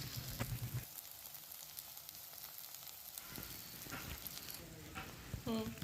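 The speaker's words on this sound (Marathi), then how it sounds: "बारीक केलेला मसाला आपल्याला छानपैकी भाजून घ्यायचं आहे लालसर होईस तोपर्यंत" Finely ground masala roasting in a pan, heard as a faint, steady crackling sizzle with a few soft stirring clicks, low in level throughout.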